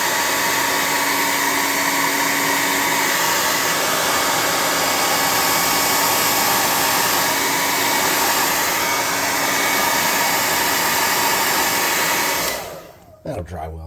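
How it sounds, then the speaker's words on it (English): A hot air gun blows a loud, constant whooshing roar at close range while drying paint on a tabletop combat walker model. It runs steadily for about twelve seconds, then cuts off, leaving a few light handling sounds. "With my hot air gun."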